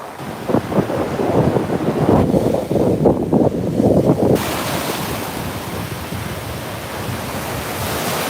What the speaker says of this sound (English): These are some really nice waves too. These are like boogie boarding waves.